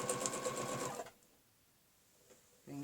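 Sewing machine stitching along a quilting ruler, a steady rapid mechanical run for about a second that stops, leaving near silence before the motor starts up again at the end.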